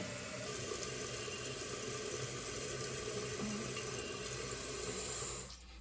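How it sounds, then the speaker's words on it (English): Water runs steadily into a toilet tank as it refills through a newly replaced Fluidmaster 400A fill valve, a continuous hissing rush at close range that cuts off abruptly near the end, with no talking. "and the water is filling."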